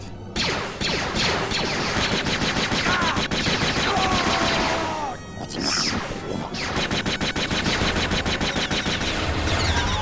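Rapid blaster fire from the Star Wars Jedi Knight: Jedi Academy game, a dense, loud stream of repeated shots with clattering impacts and brief lulls, running almost continuously.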